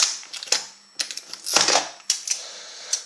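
Adhesive tape is peeled off the side of a cardboard box holding a Mini-Z RC car, giving close, crackly rips in short bursts with brief pauses between them.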